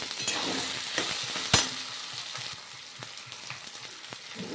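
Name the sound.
ground spices frying and being stirred in a pan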